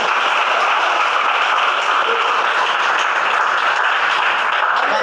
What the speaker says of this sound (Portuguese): A igreja bate palmas para Jesus.